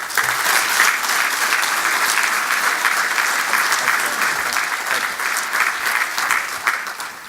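Sustained audience applause welcoming Virginia's 71st governor, Bob McDonnell, to a morning speaking event, a dense, steady clapping from a large crowd lasting throughout without pause.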